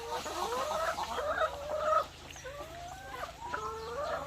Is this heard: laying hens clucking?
yes